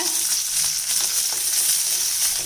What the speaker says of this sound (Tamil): இப்போ கூடவே சின்ன வெங்காயம் நறுக்குனது சேர்த்துடலாங்க